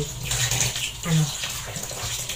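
Freshly bought market groceries are rinsed under a running tap, giving a steady close wash of water splashing and trickling with occasional knocks of items in the basin, no talk.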